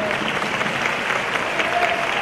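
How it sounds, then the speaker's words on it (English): Audience at a football semi-final in Singapore applauding steadily, a continuous patter of clapping with a faint crowd murmur behind it, no clear voices. "Good job, audience, for clapping and giving the encouragement as well."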